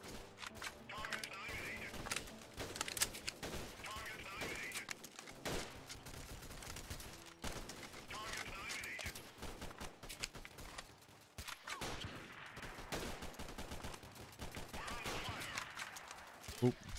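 Rapid gunfire from Freeman: Guerrilla Warfare rattles in repeated bursts at moderate volume, with a voice talking over the shots throughout.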